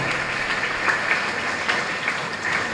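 A congregation at a Mass for the Feast of Our Lady of Good Health in Mathur, Chennai, applauds in a sustained, dense clatter of clapping that holds steady throughout.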